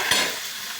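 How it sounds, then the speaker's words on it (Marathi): A toor bean curry mixture is stirred in a pan, giving a short scrape of the spoon over a steady cooking hiss, close and fairly loud with no talk. "हे मिक्स करून टाकायचं आपण."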